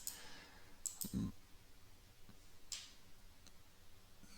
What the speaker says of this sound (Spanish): Le voy a dar doble clic a la compuerta.